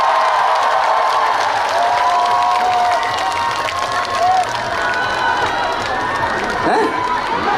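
A large crowd at the Gijang seaside village festival in Korea roars with cheering, whistles and applause for a trot singer on stage, a dense, continuous wall of noise with scattered shouts rising above it.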